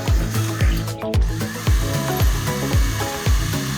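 A power drill bores through a vehicle's metal body in short repeated bursts, whining up and down roughly every half second, loud and close.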